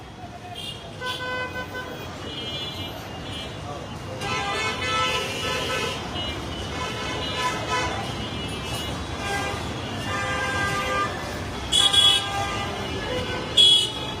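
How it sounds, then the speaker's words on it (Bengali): Dense road traffic at Shahbag in Dhaka rumbles steadily, with repeated car and bus horns tooting close by, some in quick clusters, while a reporter speaks over it. "শাহবাগে যানবাহন চলাচল একেবারে স্বাভাবিক রয়েছে"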